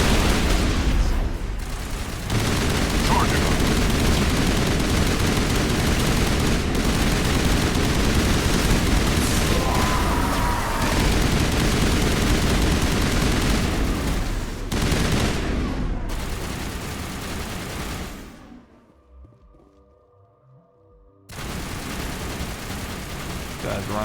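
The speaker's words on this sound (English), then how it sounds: "As you can see by the way Tali is shooting." Rapid gunfire from Tali shooting in the video game Mass Effect, sustained bursts with explosive booms filling most of the stretch, dropping to a quieter lull near the end before resuming.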